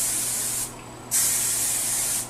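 Two bursts of hairspray hiss close up onto hair, a short one then a longer steady one after a brief pause.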